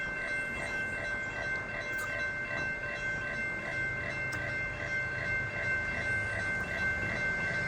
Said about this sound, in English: This train's moving right along.